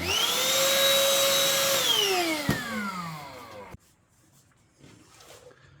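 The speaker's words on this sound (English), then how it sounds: "I use this vacuum cleaner." A vacuum cleaner whines loudly, then its motor winds down in a falling pitch and cuts off, leaving near silence.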